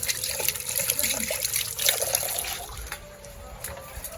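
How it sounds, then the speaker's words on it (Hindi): A spoon is rinsed under a running tap at a sink, with a steady splash and trickle of water that fades a little toward the end, and faint background noise throughout. "ये चम्मच ही धो दूं"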